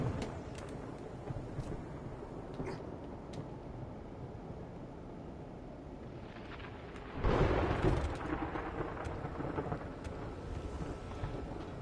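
A thunderstorm in 7 Days To Die, steady low rumbling wind and rain that suddenly swells into a loud, close thunder crash about two-thirds through, then settles back into a rolling roar.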